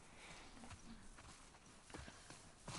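Horses in the video game The Last of Us Part II, hooves clip-clopping at a walk, quiet and somewhat distant, with a few sharper steps near the end and no talking.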